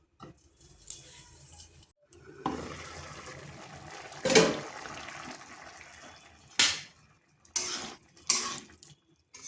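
Water splashes and pours into a pot of lentil and bean dish, in uneven bursts and short gushes, close and moderately quiet with brief pauses between.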